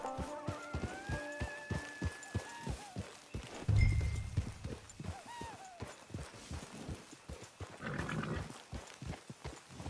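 Horse hooves clip-clop at a walking pace in the Red Dead Online video game, a steady rhythmic series of close hoof falls on the ground with occasional heavier thuds and faint game music tones early on.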